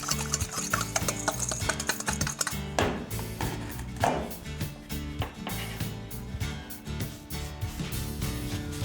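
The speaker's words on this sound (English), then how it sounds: "just whisk all that together to combine it" A dry spice rub of coriander, granulated garlic and dried thyme whisked in a bowl makes rapid, light ticking strokes, heard beneath loud music.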